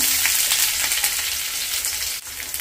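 Mustard seeds, dried red chilies and small shallots frying in hot oil, a steady close broadband sizzle with faint crackles throughout and no talking.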